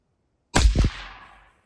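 A single close, sharp rifle shot from a scoped rifle with a suppressor, firing a 155 grain Varget handload, a hard crack with a short decaying tail afterward.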